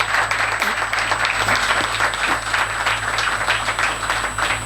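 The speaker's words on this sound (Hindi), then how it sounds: "हम तालियों के साथ इनका स्वागत करते हैं।" Steady applause from an audience at an Indian classical music honour ceremony, many hands clapping together at an even level throughout.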